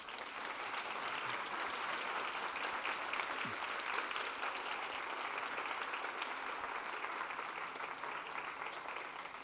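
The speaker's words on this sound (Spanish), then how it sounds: "les pido un aplauso" An audience at an obesity congress session applauds steadily, a dense, even wash of clapping held at a constant level throughout, heard from a moderate distance.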